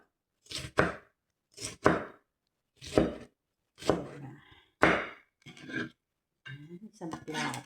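Sweet potato tops are chopped on a cutting board with a knife in a series of sharp, close thunks, spaced by short pauses, with a few quicker cuts near the end.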